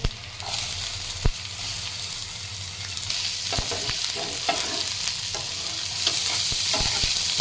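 Onion with cumin, mustard seeds, ginger and garlic sizzles steadily in hot oil in a pan for a tondli masala, with a spoon scraping and tapping as it is stirred, the frying hiss continuous and close.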